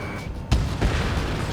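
A missile strikes an aircraft in the combat flight game Ace Combat 7, giving a sudden loud boom that rolls into a sustained rumbling roar with a second thud shortly after, over steady engine noise.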